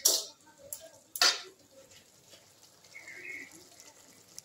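Fried eggplant is turned into a dry greens chorchori in a pan, with two sharp clinks of a spatula against metal followed by quiet, faint scraping and shuffling.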